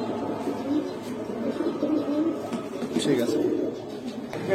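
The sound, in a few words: pigeons cooing at a pigeon seller's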